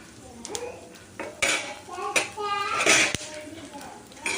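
Spices and ajwain leaves fry in hot oil in a pan while a utensil scrapes and clinks against the metal in short strokes, with a voice talking over it.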